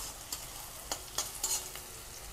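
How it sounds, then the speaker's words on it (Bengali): Dried red chillies sizzle and fry in a pan while being stirred, a low steady crackle broken by a few sharp scraping strokes of the spoon, close and alone with no talk. "দুটো শুকনো লঙ্কা দিয়ে দেবো। দিয়ে আবার একটু নাড়াচাড়া করব।"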